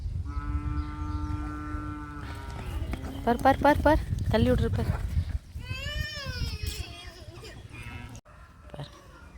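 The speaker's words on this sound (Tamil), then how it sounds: "கண்ணுக்குட்டி மட்டும்தான் சவுண்ட் விட்டுருக்குறாங்க." A calf on a farm moos in a drawn-out, steady call at the start, and another wavering cry comes later, close by, with someone talking loudly over and between the calls.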